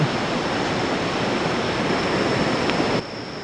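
Roaring Khone Phapheng waterfall on the Mekong in southern Laos, a steady loud broadband rush of falling water that holds constant, then drops slightly in level near the end.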